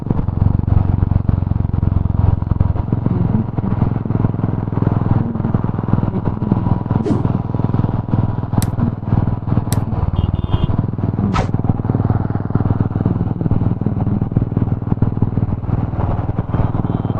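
A motorcycle on a one-day road trip out of Kolkata drones steadily for the whole stretch, its engine blended with heavy wind roar, with a few brief high chirps late on.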